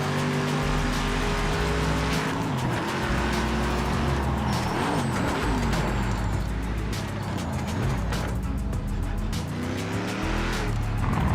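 Race car engines rev and shift in a VR racing game, rising and falling whines with repeated gear changes, tire squeals and skids, loud and continuous with no talk.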